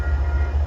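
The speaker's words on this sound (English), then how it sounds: "402, train 635 arriving Brewster" A Metro North holiday train arriving at Brewster gives a steady low rumble close by, alone and brief.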